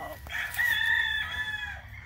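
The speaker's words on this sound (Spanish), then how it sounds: "Estos son gallos de 2 años" Two-year-old rooster crowing close by, one long, loud cock-a-doodle-doo call sustained for nearly two seconds over faint low background noise.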